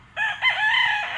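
A pure white Kelso gamefowl rooster, class AB, gives one full crow, loud and close, rising sharply and holding steady to the end.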